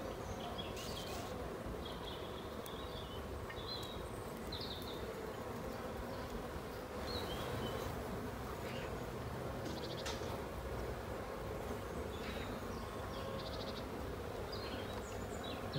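Honeybees swarming around an open hive fill the air with a continuous, dense buzz, individual bees droning past close by over the steady hum of the colony, with no talking.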